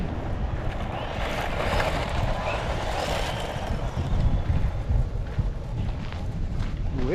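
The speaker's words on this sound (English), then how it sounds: "Windy out." Steady broadband wind buffeting outdoors, loud and continuous, with a faint motor whine of a small electric RC buggy running somewhere beneath it.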